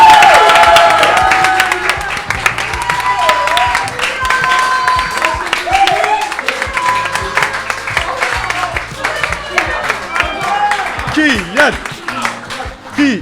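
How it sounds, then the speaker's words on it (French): Audience applauding and cheering for a presenter at a French event, loud and close, with dense clapping mixed with crowd noise and voices throughout. "un applaudissement pour le présentateur."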